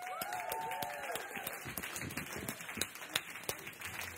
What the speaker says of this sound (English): let's have a massive round of applause for George Hardwick!